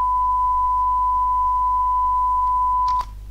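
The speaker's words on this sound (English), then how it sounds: "you need a sound of exactly 1000 Hz," Steady pure 1000 Hz sine test tone generated in Blender, holding continuously and evenly for about three seconds before a brief click near the end.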